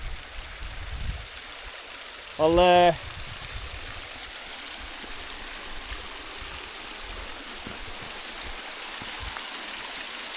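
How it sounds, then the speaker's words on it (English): A small cascading waterfall on a Scottish Highlands stream at Knoydart gives a soft, steady trickling rush throughout, fairly faint, with a brief voice and a short tonal sound partway through. "Nice little cascading waterfall"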